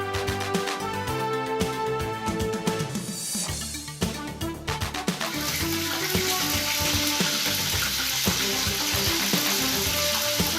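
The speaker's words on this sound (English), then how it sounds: "Fry the chicken over medium-high heat for 10 minutes on each side." Chicken pan-frying in oil over medium-high heat gives a loud, steady sizzle and crackle that thickens into dense frying hiss partway through, alone with no voices.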